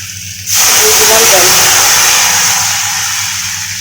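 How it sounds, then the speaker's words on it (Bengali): Hot water poured into a pan of frying potatoes sets off a sudden loud, sustained steam hiss that slowly softens over a few seconds, close by and heard on its own without talk. "গরম জলটা দিয়ে দেবো"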